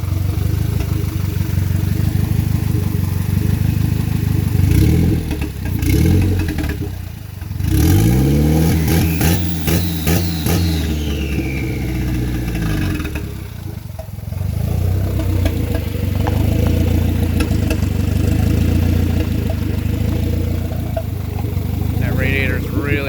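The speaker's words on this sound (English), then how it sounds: "Give her a few revs for you guys." A loud turbocharged Honda CB7 Accord engine with a DSM turbo build and no exhaust revs up and down several times, limited to about 2,500 RPM, rising and falling in pitch, with a rough idle rumble between bursts and some talking over it.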